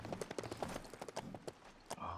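Hooves clip-clop in a quick, steady rhythm as a horse trots in the LEGO Lord of the Rings video game. The thuds are fairly clear against a quiet background.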